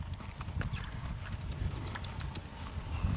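A horse's hooves clip-clop in a steady trotting rhythm during a riding lesson, fairly close, with no other prominent sounds.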